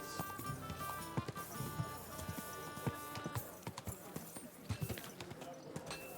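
Horse hooves clip-clop in an uneven walking rhythm in Kingdom Come: Deliverance 2, crisp and close, with faint voices and background sounds underneath.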